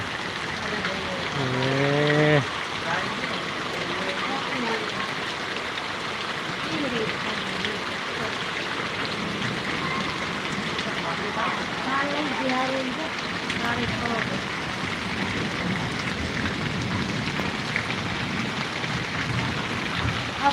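Steady rain falls in a village in Patdi taluka, Surendranagar district, a soft continuous hiss beneath someone talking close by.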